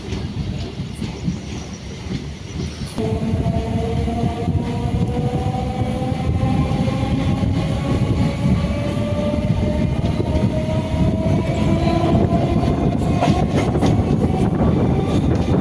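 A night EMU suburban electric train runs on the Arakkonam to Avadi line near Chennai, heard as a loud steady rolling rumble with a sudden jump in level and rising, whining wheel and motor tones, with no talk.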